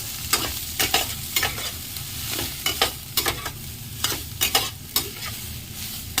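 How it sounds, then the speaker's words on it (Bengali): Soybean chunks are stirred in a cooking pan, a loud, close run of quick scraping strokes of a spatula over a hissing sizzle, repeating in uneven bursts. "এখন সবিনগুলো একটু নাড়া"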